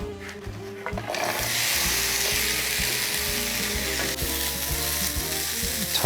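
Apples hit a caramelizing pan with toasted pine nuts, giving a loud, steady sizzle and crackle that continues throughout, with irregular clicking and rattling underneath.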